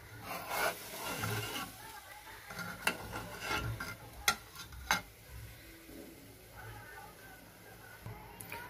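Puran is stirred in a pot as it cooks, soft scraping and rubbing strokes at an uneven pace with a few sharper knocks, quiet and close, a low voice murmuring in the background.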